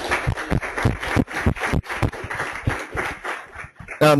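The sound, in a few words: audience applause after a seminar talk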